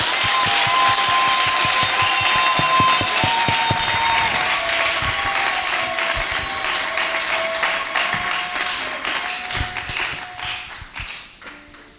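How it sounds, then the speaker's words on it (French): A church congregation bursting into loud, sustained applause with a few cheers, dense clapping close and full that slowly thins and fades toward the end. "Est-ce qu'on peut encore acclamer très fort?"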